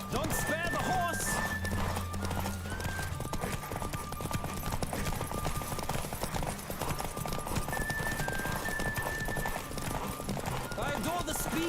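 Rapid hoofbeats of a galloping horse in The Witcher 3 keep a steady drumming rhythm, with whinnies on top, under speech and game sounds.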